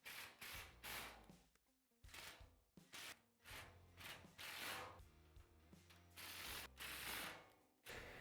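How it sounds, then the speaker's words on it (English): A ratchet wrench clicks in quick repeated bursts as it tightens a bolt on a Tusk Adventure roof rack mounted on a Kawasaki KRX 1000 UTV, heard close and alone with brief pauses between strokes. "get this bolt tightened up, and then you can tighten this bolt right here."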